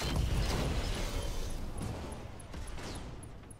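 Weapons fire in the mech game Roguetech, a dense continuous barrage of overlapping shots and impacts with a rumbling low end, sustained at moderate loudness with no talk over it.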